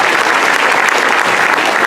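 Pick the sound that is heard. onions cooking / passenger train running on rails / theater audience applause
theater audience applause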